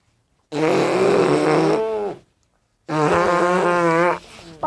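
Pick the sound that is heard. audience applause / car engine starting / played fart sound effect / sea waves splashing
played fart sound effect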